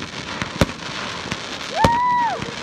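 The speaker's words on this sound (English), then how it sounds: "Oh my God, too much fireworks." Graduation fireworks at a high school go off in sharp, separate bangs, two of them loud, with a whistling rising streak near the end, and crowd cheers faintly in the background.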